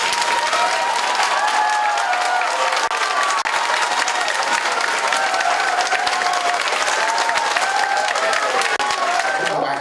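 Audience at a charity vegetarian banquet applauding, a dense, continuous roar of clapping from a large crowd with faint cheering, lasting the whole stretch.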